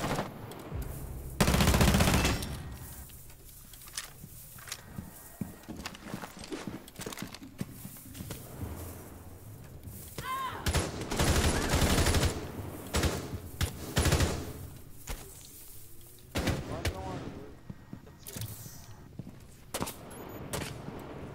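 Gunfire in a Rainbow Six Siege round: sharp bursts and single shots crack out irregularly, some loud and close, others fainter, against a quiet background with no talk.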